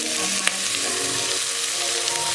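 Boiled beef tossed with pilau spices fries in a hot pot, a steady loud sizzle running throughout with one sharp clink of a utensil near the start.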